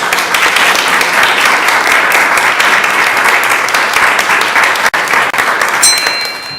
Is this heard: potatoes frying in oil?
no